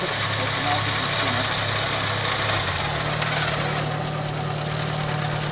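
An off-road vehicle's engine idles steadily during a heavy off-road outing, a continuous low rumble with a slight shift in pitch partway through, close by under outdoor noise.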